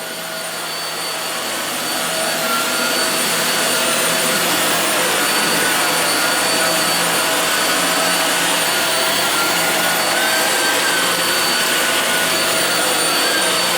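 A Hoover Windtunnel Air vacuum cleaner runs continuously with a steady, broad whooshing motor roar and faint high whine, loud and close throughout with no talking.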